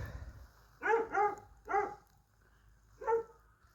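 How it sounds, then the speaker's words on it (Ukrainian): A dog barking in the distance outdoors: three quick barks in a row followed after a pause by one more, faint and somewhat muffled against quiet surroundings. "А вон ще там собака лает."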